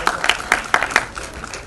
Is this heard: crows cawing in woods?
no